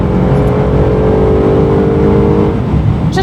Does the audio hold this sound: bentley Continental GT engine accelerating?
yes